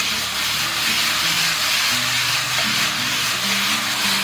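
Lemongrass, red pepper slices, lemon slices and drained chicken stir-fried over medium heat in a wok, giving a steady, continuous hiss and sizzle throughout with no one speaking.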